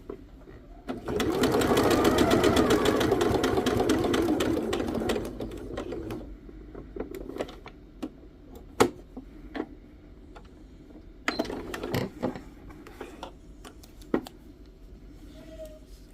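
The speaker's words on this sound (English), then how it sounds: "I have a big pile next to the sewing machine of all my scraps." A sewing machine stitches quilt fabric for log cabin blocks in a steady whirring run of about four seconds, followed by scattered clicks and light handling sounds, with no talking.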